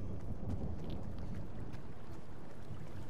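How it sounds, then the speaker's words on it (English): A storm rolls in inside Fortnite, heard as a steady low rumble of thunder with a rain-like hiss, continuous and moderately loud with no talking. "Oh, hey, look it, there's a storm coming."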